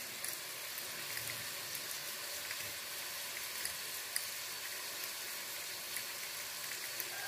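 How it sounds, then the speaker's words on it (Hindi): Onions frying in a pan while stuffed tinda are being prepared, a steady soft sizzle with fine crackle running the whole time, faint and even, no talk. "जब तक हमारा प्याज फ्राई हो रहा है"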